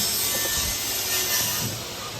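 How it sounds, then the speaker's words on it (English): Wood being cut in the background, a steady broadband rasping and buzzing drone that runs continuously and fairly loud, with no talk over it. "We're cutting wood in the background."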